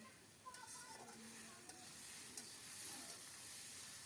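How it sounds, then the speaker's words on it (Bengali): Raw jackfruit is stir-fried with home-ground spices in a pan, giving a soft, low sizzle with light scraping and stirring clatter throughout. "এঁচোড়টা মশলার সাথে ভালোভাবে কষিয়ে নিয়েছি"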